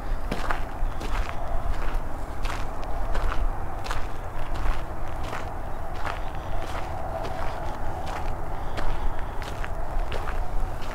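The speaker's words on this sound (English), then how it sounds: "I'm off the road walking on the trail here" Footsteps walking along an outdoor trail beside a road, a steady regular crunch of strides repeating throughout over a constant outdoor background, close and clear with no talking.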